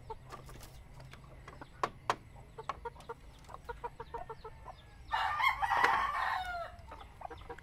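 Chickens at a rural Filipino home, with a rooster crowing loudly and near for about a second amid scattered sharp clucks and calls from the flock over a low background hum.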